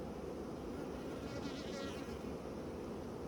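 Dense, continuous buzzing of many honeybees close by at a hive, a thick droning swarm with no talking.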